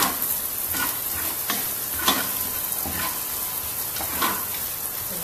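Onions sautéing in a pan used for dinuguan, a steady frying sizzle with periodic scrapes and stirs of a utensil, close and continuous with no talk.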